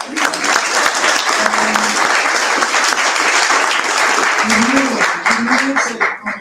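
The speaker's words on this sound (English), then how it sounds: "Now there's applause" Applause at a conference closing plenary on youth and global leadership: sustained crowd clapping, loud and even, with a few voices murmuring underneath and the sound tapering near the end.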